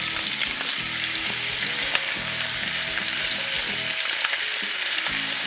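Sweet onion slices and whole fish fry in a hot pan, a dense continuous sizzle with occasional stirring and scraping sounds, close and loud throughout.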